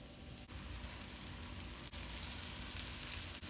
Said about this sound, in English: Then I'm just going to place the pork chop into the hot skillet.